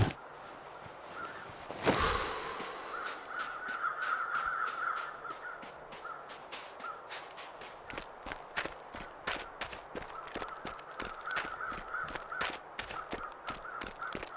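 Crows caw repeatedly in the distance in the video game The Long Dark, over a busy ambient background with rhythmic clicking footsteps and a sharp burst near the start.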